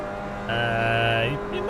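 An LMP3 race car engine in Assetto Corsa, using the Orica sound, revs up in a steady high drone, then drops in pitch as it shifts or lifts, heard up close.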